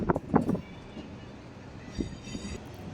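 A MEMU passenger train rolling into Tenali Junction gives a low, fairly faint rumble with a few soft knocks and clunks over three seconds, heard from on board.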